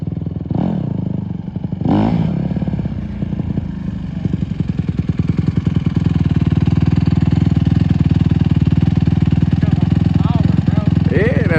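A Honda CRF150R dirt bike engine runs steadily and loudly up close, a continuous buzzing drone with a couple of brief throttle blips near the start, while people talk over it.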